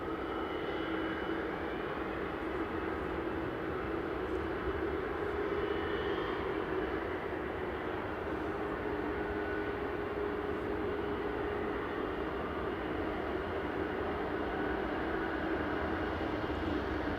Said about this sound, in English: Virgin's VS86 coming in from Las Vegas